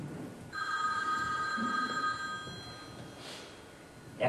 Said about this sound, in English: sounds like the telephone